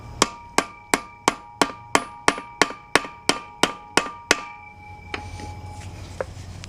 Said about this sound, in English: And then hammer.